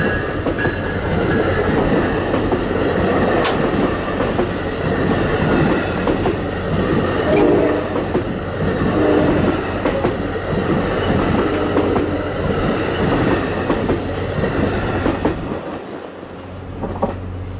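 A New Jersey Transit 40th anniversary express train, running from New York Penn toward Long Branch, passes Red Bank station with a loud, steady roar and rhythmic clickety-clack of wheels, fading slightly near the end.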